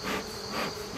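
Honeybees swarm at a hive during mite treatment, a dense close buzzing drone swelling and easing without a break through the short moment, no voices.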